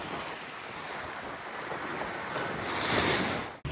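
Waves splash and rush against a Freedom 28 sailboat off Whidbey Island, a steady close wash of water with wind noise that swells louder before a sudden sharp break near the end.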